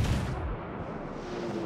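Heavy naval guns boom in World of Warships, a battleship salvo with a loud low-end blast at the start that decays into rumbling background noise.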